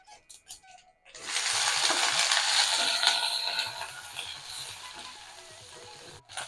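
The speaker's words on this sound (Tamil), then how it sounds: "கோவக்காய் கட் பண்ணி வச்சுருக்கோம், அதை அப்படியே சேர்த்துடலாம்." Ivy gourd tipped into hot oil with mustard seeds, urad dal and curry leaves for a Tamil kovakkai curry bursts into a loud, steady sizzle after a second of quiet clatter, then settles to a softer crackle.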